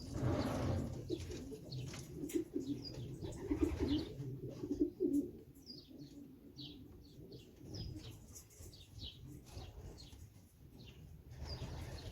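Domestic racing pigeons coo in a loft, low throaty rolling calls repeating close by, with bursts of wing flapping and faint chirps scattered through a quiet background.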